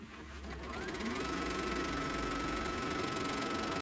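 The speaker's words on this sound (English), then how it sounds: "now it's going to stitch the tack down" Embroidery sewing machine stitching tack-down lines on a quilt block, a steady mechanical whir and rapid needle chatter running continuously for nearly four seconds before stopping abruptly.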